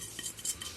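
Chicken bread dough ingredients (flour, sugar, yeast) being mixed in a bowl with a utensil; soft, faint scraping and light clinks in a short irregular burst, no voices.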